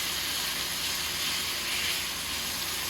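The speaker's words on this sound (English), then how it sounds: "Now we're going to cook these pork chops on medium heat" Pork chops sear in a pan over medium heat, giving a steady, even sizzling hiss that runs the whole time without a break, moderately quiet and close.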